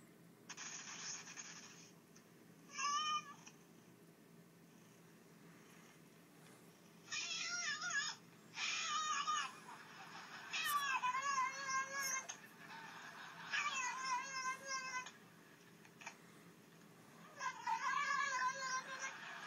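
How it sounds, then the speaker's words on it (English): Cats meow and caterwaul in repeated drawn-out calls played back from a YouTube video, with several bursts spread across the clip and quiet gaps between them over a steady faint background hiss. "What is that cat doing, Julian?"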